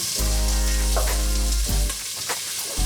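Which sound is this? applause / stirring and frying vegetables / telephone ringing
stirring and frying vegetables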